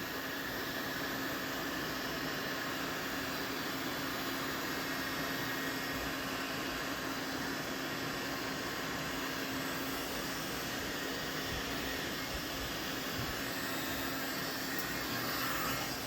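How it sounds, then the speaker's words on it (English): A heat gun blows steadily on blue craft foam for a shield build, a constant loud broadband whoosh with a faint hum that runs unbroken and close throughout, with no talking. "One more thing with the heat gun, when you're applying it to the blue foam, and really any of the foam, don't get too close and overheat a section of the foam"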